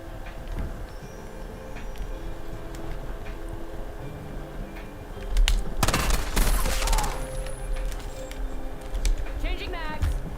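Gunfire in Call of Duty Black Ops 7 Zombies comes in a loud burst of rapid shots midway, over steady game ambience with ticking and occasional chirps, while a voice talks intermittently.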